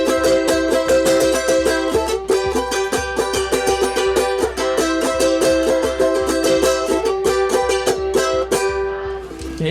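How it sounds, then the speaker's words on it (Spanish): A ten-string northern Chilean charango with doubled strings is strummed in a steady, bright, rhythmic pattern, close and loud, with quick repeated strokes ringing continuously for several seconds without any voice. "El charango se asemeja a una guitarra"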